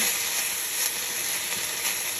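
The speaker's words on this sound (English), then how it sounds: "And you get that little bit of steam going on." Stinging nettles cook in a pan with water over low heat, giving off a steady, even sizzle and hiss of steam with no talk.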